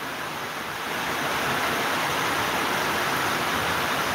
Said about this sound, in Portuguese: Olha, a chuva engrossou, hein?